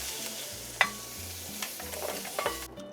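Beef browned in perilla oil in a wok for tteokguk, with the pan being deglazed: a low, steady sizzle carries a single bright clink and a few light scrapes over about three seconds, nearby and with no voices.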